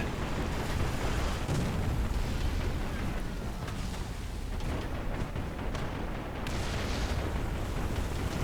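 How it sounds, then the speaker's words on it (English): Artillery fire in War Thunder rumbles as heavy, booming blasts that merge into a dense, continuous roar. It is loud and sustained, with deep low rumble and a few brighter crashing surges, and no talking. "Oh, and here comes the artillery fire."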